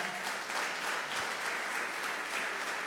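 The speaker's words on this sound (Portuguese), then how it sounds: "Você pode aplaudir a palavra de Deus?" Church congregation applauding during a worship service, a steady, dense wash of many hands clapping at once, fairly quiet and distant-sounding, with no talk over it.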